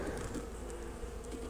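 Honey bees buzz inside a winter hive being fed sugar cakes, a low steady droning hum with no break, close but quiet, no voices.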